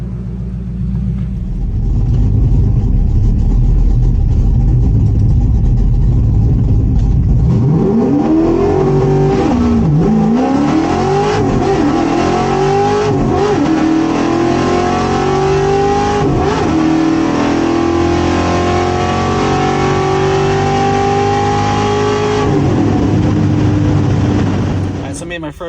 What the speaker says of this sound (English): Here's Rocco's Pro-charged Stroker LS3 C6.